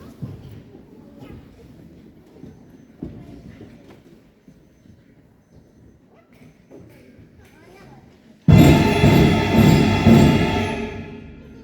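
Fifth-grade beginner band students buzz on brass mouthpieces, faint scattered buzzes and murmurs at first, then a sudden loud burst of many buzzing tones together that fades near the end.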